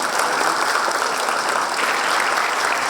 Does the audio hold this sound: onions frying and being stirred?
no